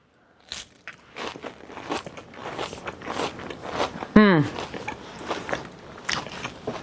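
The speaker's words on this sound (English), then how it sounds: "They're definitely crunchy, as you can hear, and they're very delicious." Crunchy bites into vanilla collagen cookies close to the mic, a few sharp cracks and chewing crunches spread across the stretch, with one brief squeaky tone partway through and soft background noise.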